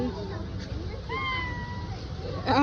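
A cat lets out a drawn-out meow in the middle of the clip, heard among people talking close by.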